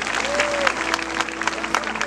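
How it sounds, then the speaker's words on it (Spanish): A church congregation claps steadily through the whole stretch, a dense, close wash of applause with a sung or spoken voice faintly underneath. "Dale un aplauso al Rey, ponte de pie."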